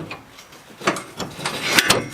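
Metal pin pulled from the mower deck linkage of a John Deere 400 garden tractor, a few short scraping clicks and knocks building to two sharper metallic taps near the end, close and fairly quiet.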